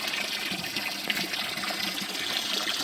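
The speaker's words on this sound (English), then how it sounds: "Fill up the water barrel." Water gushes steadily into a barrel nearby, a continuous splashing rush with no voices.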